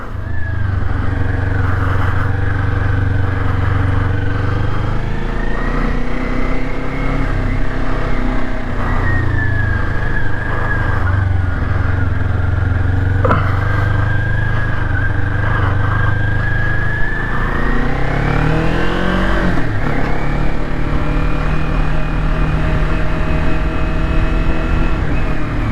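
Kawasaki Ninja 400 motorcycle ridden in practice getaways and tight turns, its engine droning steadily and rising in pitch as it accelerates, then easing off under progressive braking, heard continuously from the rider's position.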